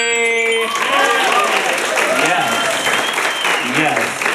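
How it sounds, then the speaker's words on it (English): Loud applause from a crowd at a New Year's Eve event, dense clapping with cheers and voices rising over it throughout. "And behind the helm of all this, give a big warm round of applause to Anthony!"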